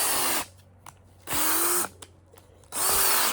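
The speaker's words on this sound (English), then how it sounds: "I need the drill because I need more juice" A power drill fitted with an auger whirs in three loud bursts, each a few moments long, spinning up and winding down with quiet pauses between, boring planting holes in a hoophouse.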